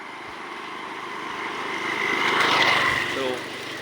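A motorbike approaches and passes nearby on an early-morning road, its engine swelling to a peak and then fading, with a voice talking over the background.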